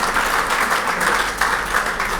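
Hotel bar and kitchen staff at a football league hall of fame dinner receive a round of applause from the room, a brief, steady patter of many hands clapping at moderate volume.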